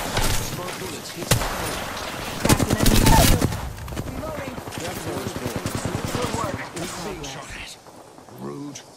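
Rapid gunfire in the video game Apex Legends, dense bursts of shots peppering a player for several seconds, loud at first and then thinning out, with faint voices near the end.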